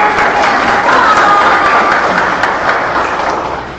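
Classroom applause from students praised by their teacher, a loud, close burst of many hands clapping together that starts at full strength and slowly tapers, with faint high tones and a brief voice buried in the clatter.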